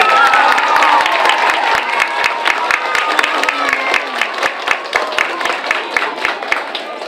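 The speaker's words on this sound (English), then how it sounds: "Can we give her another round of applause," A school Veterans Day celebration crowd applauding and cheering, starting as a loud mixed roar with voices, then thinning into a rhythmic, synchronized clapping that continues steadily to the end.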